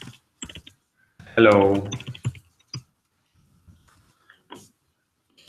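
Sparse clicks of typing on a computer keyboard in a quiet room, with a short spoken word early on.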